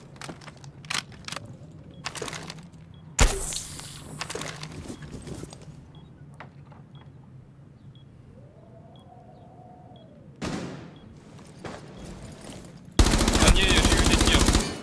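Rainbow Six Siege gunfire in a competitive match, with sharp single shots early, a quiet stretch with a faint electronic tone, then a loud burst and a sustained roar of automatic fire at the end.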